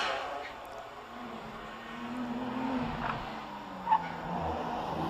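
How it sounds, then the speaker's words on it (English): A Porsche 997 GT3 climbs the Prescott hillclimb course at speed during a British Hillclimb Championship run, its engine note rising in a steady drone heard from a distance, with a brief sharper burst near the end. "And Robert nearing the finish in his 997."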